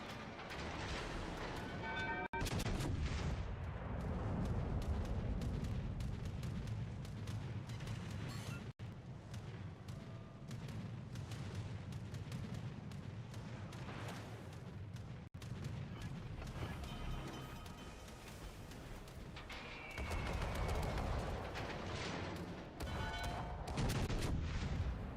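Video-game tank guns firing high-explosive shells in a dense, continuous battle soundscape, with heavy booming shots and explosions layered over a constant low rumble, loud and close throughout, with brief bursts of sharper gunfire.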